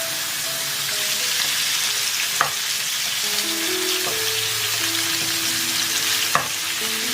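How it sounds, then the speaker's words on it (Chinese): Bones fry in oil in a flat pan, giving a steady, close sizzle with a few sharp clicks and pops scattered throughout. "然后再放油煎。"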